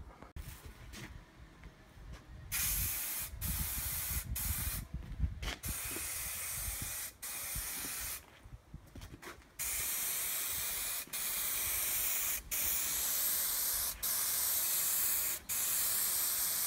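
Repeated bursts of aerosol spray glue hiss close by inside a Lancia Integrale roof, short sharp puffs at first, then longer sustained sprays separated by brief pauses.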